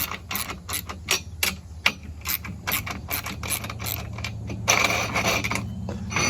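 Ratchet wrench working the running board bracket bolts loose on a 2020 GMC Sierra during an iBoards install, a close run of sharp, rhythmic clicks with short pauses and a scraping stretch near the end.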